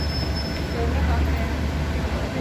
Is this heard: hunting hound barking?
no